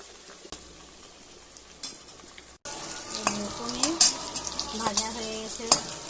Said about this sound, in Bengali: করে লাল লাল করে ভেজে নেব।